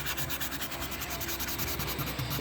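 Continuous close-up sanding on a 2016 Toyota Highlander rear spoiler during paint repair, a steady, even rasping scrub with a slight back-and-forth pulse and no talking.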